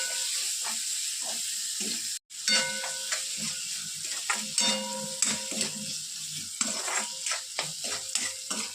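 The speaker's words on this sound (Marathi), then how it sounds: "त्यामध्ये टोमॅटो टाकून घेऊ। आणि त्याला छान मिक्स करून घेऊ।" Tomatoes being stirred and mixed in a frying pan for a bhindi dish, a continuous sizzle and hiss with repeated scraping clinks of the spoon, close and fairly loud, after a brief dropout near the start.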